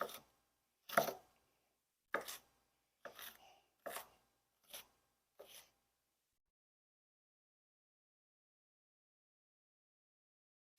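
A knife chops celery on a cutting board in seven separate, uneven strokes, each one a crisp close thunk and scrape, followed by a long stretch of near silence.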